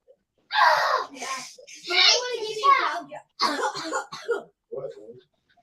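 Several harsh coughs and throat-clearing bursts from a close voice, broken by short pauses.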